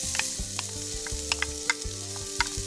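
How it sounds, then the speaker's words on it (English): Sliced onions fry in hot oil in a pan for a Malay chicken curry, giving a bright continuous sizzle with repeated scraping stirs and small pops. Nobody talks. "Once the oil starts to sizzle a little bit, and then you will put in the onions"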